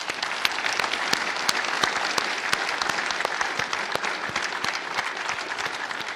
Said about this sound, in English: I want to ask everyone to do a round of applause to thank all of our speakers again